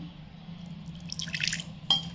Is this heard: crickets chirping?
no